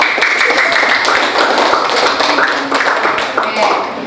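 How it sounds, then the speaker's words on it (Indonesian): Students and teacher clapping together in a classroom at the end of a lesson, a loud sustained burst of many hands with voices mixed in. "Tepuk tangan sekali lagi untuk kita semua hari ini."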